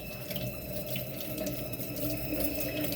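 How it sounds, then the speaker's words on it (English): Tap water running steadily into a sink while green onions are rinsed by hand for a vermicelli noodle bowl, a constant close hiss and splash with no talking. "you probably know how to rinse green onions, so I'm just gonna use both my hands and do that now"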